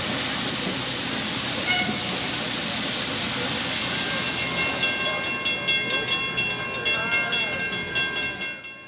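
Little River Railroad 110 steam locomotive backing a passenger train into a loading platform at a Michigan train expo, with a steady broad hiss and rumble giving way to rhythmic chuffing and clanking wheel beats, close and loud.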